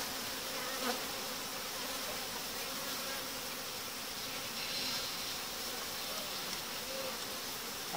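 Honeybees hum steadily inside a hive colony reorganized after a merge, a soft continuous buzz heard up close with no voices.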